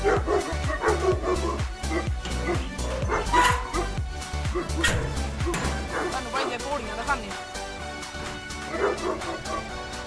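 Dogs bark repeatedly and loudly close by, yips and whimpers mixed in, while someone talks over the commotion.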